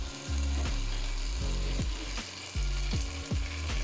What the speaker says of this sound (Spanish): Y le voy a echar el caldito de pollo.